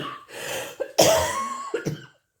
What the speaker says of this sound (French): Je suis désolée pour cette toux.